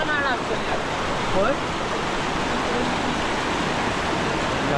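Konkan monsoon rain: water from the season's first rainfall flowing, a steady, dense rushing wash that holds constant throughout, with faint voices underneath.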